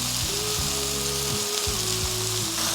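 King oyster mushrooms sizzle in oil in a pan over medium heat, a loud, constant hiss and crackle that fills the whole clip, with a low steady tone and faint music underneath.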